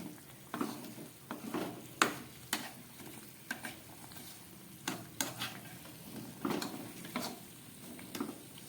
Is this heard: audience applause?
no